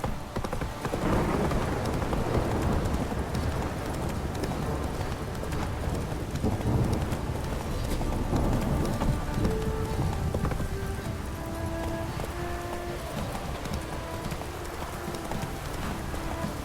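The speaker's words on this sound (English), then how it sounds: "This downpour." Heavy rain pours steadily with a dense hiss in The Witcher 3: Wild Hunt, while hooves clop along beneath it and low rumbles roll in the background.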